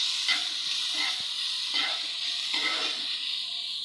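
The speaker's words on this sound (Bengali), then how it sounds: "আলু গ্রেট করে রাখা আমি 2 মিনিট ভালো করে ভেজে নিচ্ছি" Grated potato fries in a pan of hot oil, giving a steady close sizzle broken by soft scraping bursts as a utensil stirs it around, with no voices.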